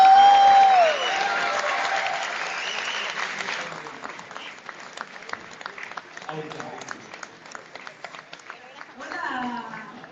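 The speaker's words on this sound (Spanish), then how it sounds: "quiero que la recibamos con un muy fuerte aplauso" Audience applause at a live music show, a dense burst of clapping with music underneath that thins into scattered individual claps, then fades as a voice begins speaking near the end.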